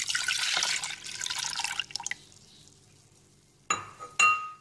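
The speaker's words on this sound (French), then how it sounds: "Dans notre casserole, on verse notre lait" Milk poured into a saucepan while making a strawberry and vanilla cream, a bright liquid splash for about two seconds, then a quiet pause and a couple of short clinks near the end.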